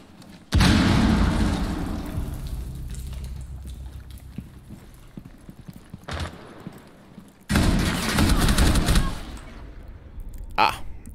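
Gunfire rings out in Rainbow Six Siege, with loud bursts of shots and booming impacts in clusters separated by quieter gaps, plus a sharp single crack near the end.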